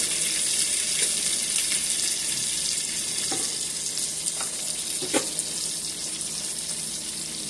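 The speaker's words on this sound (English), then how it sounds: "let's get my salmon scooped up right here. I'm just going to add that to the pan. Let that cook." Salmon frying in a pan, producing a steady, even sizzle close by, with a few light clinks and scrapes over it and no talking.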